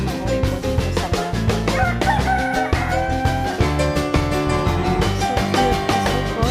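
Imported chicken breeds cluck with a rooster crowing, a busy, loud flock calling close by in dense overlapping bursts throughout.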